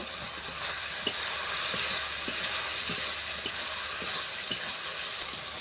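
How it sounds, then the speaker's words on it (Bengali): Pre-fried shrimp being stirred into a sizzling spice masala for an okra and shrimp curry, with a steady close frying hiss and light scraping clicks of the spoon at irregular intervals throughout. "সেই মশলার মধ্যে আমি চিংড়ি মাছটা দিয়ে দিলাম দিয়ে নাড়িয়ে নেব"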